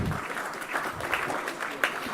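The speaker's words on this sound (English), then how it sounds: "a big round of applause for all our winners" Applause from an audience for award winners at a manufacturing best practices awards plenary, steady, moderately loud clapping with a few sharper claps standing out.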